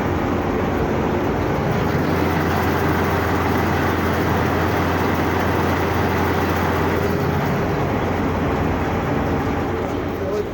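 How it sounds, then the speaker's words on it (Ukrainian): A John Deere 935 combine harvester runs through a buckwheat field, a loud, steady engine and machinery drone filling the whole stretch with a low hum, while someone talks over it. "Їдемо комбайном, будемо вже збирати гречку комбайном"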